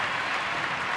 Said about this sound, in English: Big crowd making some big-time noise here.